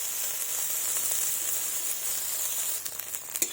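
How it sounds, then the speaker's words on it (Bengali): Soybean chunks fry in hot oil in a pan with a steady, close, bright sizzle, joined near the end by a few louder crackles and pops. "দেখুন কি সুন্দরভাবে ভাজা হচ্ছে।"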